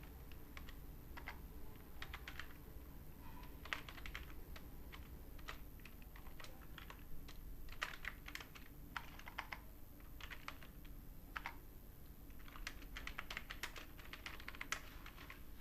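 Typing on a computer keyboard while a roll number is entered during C# programming work, with quiet, steady key clicks in irregular bursts and short pauses, close to the microphone, with no talking.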